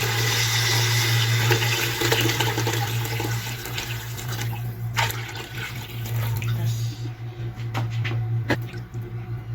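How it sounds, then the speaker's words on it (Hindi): Water poured into a pot of roasted lentils for Pakistani-style dal khichdi, a loud rushing splash that eases into gurgling and a few clinks over a steady kitchen hum. "अब इसमें पानी डाल देती हूँ"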